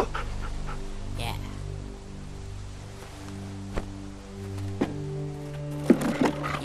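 A dog whimpers and pants in The Walking Dead video game, soft whines over breathy panting at close range, with a few sharp knocks near the end.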